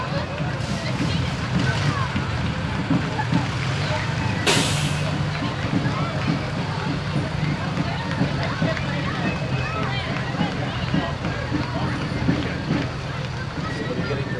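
A fire department's fire truck rolls along in a Memorial Day parade, its low engine rumble steady and fairly loud under crowd babble, with a brief sharp hiss like an air brake partway through.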